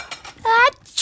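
A single close, loud sneeze: a voiced, drawn-out build-up ending in a sharp, breathy burst.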